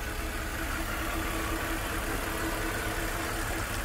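A right-hand-drive BMW Z4 roadster engine idles smoothly at close range, a steady, even hum with no voices over it.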